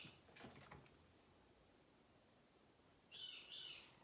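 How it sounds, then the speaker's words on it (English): A pet bird, Carmela, squawks from her cage in a bedroom, two shrill harsh calls near the end after a few faint earlier chirps, heard at a distance in an otherwise quiet room. "you can hear Carmela squawking in the bedroom"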